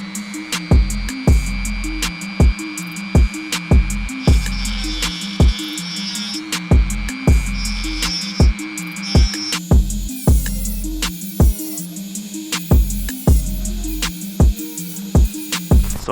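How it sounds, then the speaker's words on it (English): A Dremel with a thin cutting wheel grinds through thick metal, a steady high whine broken by regular sharp clicking or knocking bursts that repeat about twice a second throughout, loud and close with no talk. "It only takes a while because I'm using a Dremel and not like an angle grinder"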